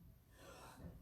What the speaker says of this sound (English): now some yawning to stretch the jaw here